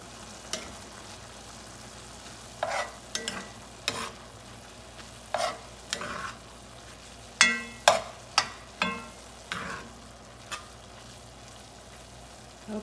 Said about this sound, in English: while my ground meat finishes cooking